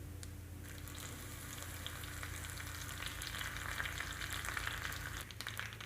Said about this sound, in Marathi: आता आपण कढीपत्ता टाकून घेऊ।